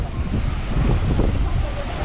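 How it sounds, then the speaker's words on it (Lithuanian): Strong wind roars into the microphone at Nazaré on the Portuguese coast, a loud, continuous buffeting rumble over which huge ocean waves surge, with no voices. "nes labai vėjas pučia, tai vis tiek nieko nesigirdės"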